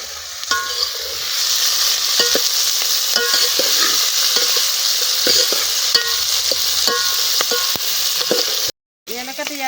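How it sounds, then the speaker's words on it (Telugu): Green chillies, onions and curry leaves sizzle in hot oil as a tempering for dal curry, a loud, close, continuous frying hiss with scattered pops and spoon-scrape clicks while being stirred. "పచ్చిమిర్చి ఉల్లిగడ్డ అన్నీ వేస్తే మంచి వాసన వస్తుంది"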